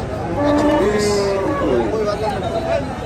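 Cattle, bull calves for rearing at the Fakira Bazar livestock market, low and fairly close, moo over a steady hubbub of crowd chatter and bargaining voices.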